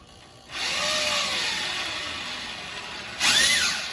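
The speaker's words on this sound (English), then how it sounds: "the drill, so I drill it down and go right there." A power drill starts up and whirs steadily into wood, then surges louder with a higher-pitched grind near the end.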